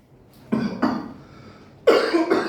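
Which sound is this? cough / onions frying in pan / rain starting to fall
cough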